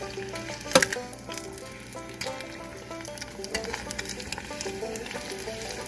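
A batter-coated egg deep-fries in hot oil, a steady close sizzle and bubbling with a sharp clack near the start as the egg is rolled around, no talking.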